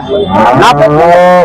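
Cattle moo loudly and close by at a large livestock market in Kariamangalam, a single long drawn-out bellow filling the moment with no talk over it.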